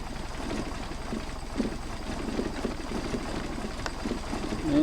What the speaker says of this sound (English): And we're still idling.